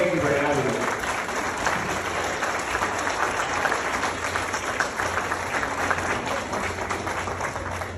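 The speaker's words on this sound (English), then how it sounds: "keep it clapping for your fucking host, John Wallen." Steady, dense applause from a large comedy club audience in Tulsa fills the whole stretch, with a low engine-like hum underneath and some voices mixed in.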